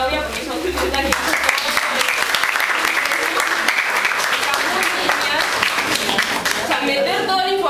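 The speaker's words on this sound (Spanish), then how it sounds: "un aplauso para Claudia" At a book launch about Peru's LGBT movement, an audience applauds steadily for a woman named Claudia, and voices are heard over the clapping at the start and finish.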